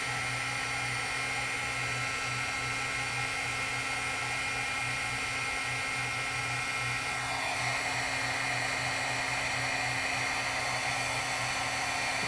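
A heat embossing tool blows hot air over embossing powder on a card, melting it to a shiny enamel finish; a constant close fan whine and rushing air hum, steady throughout with a slight tonal shift partway, no talk.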